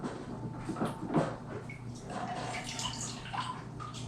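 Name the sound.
rinsing hands with water at sink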